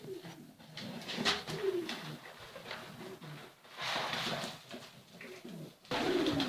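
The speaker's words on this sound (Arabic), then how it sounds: "هذه صغار الحمام، ويسمون صغار الحمام بالزغاليل" Baby pigeons (squabs) in a nest calling with soft, irregular cooing and chirping calls, faint and close, with a low background hum.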